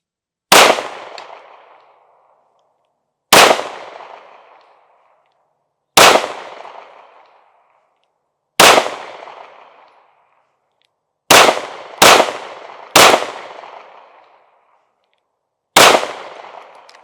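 Pistol shots from a Springfield Armory Hellcat Pro Comp at an outdoor range: eight loud, sharp single reports spaced a few seconds apart, two coming close together, each fading away into silence.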